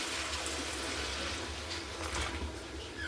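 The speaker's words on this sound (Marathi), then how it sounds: "आता याच्यामध्ये गरम पाणी घालू, थोडं शिजायपुरतं।" Hot water pours steadily into a pan of green mung bean curry, a close, even rushing splash lasting throughout with no pauses or voices.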